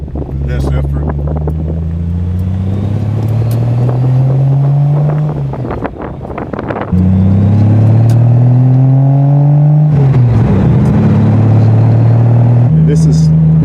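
A Triumph TR6 classic car, over fifty years old, drives on a country road near Fallbrook, its engine note climbing through repeated accelerations and gear changes, loud and close with strong wind rush. Someone talks over parts of it.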